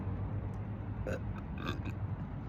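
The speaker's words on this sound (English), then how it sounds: "I got a burp." One short, soft burp from a person rises out of a steady low background hum.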